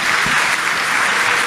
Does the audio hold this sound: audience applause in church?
yes